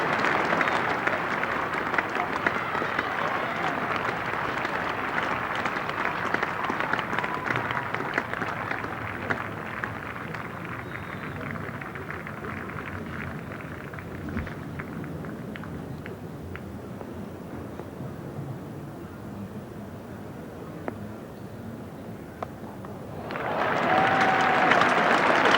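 A cricket crowd at Lord's applauds Jack Russell reaching fifty in his first Test, England versus Sri Lanka in 1988: sustained, distant-sounding clapping from a large stadium audience that slowly thins, then a sudden louder burst near the end.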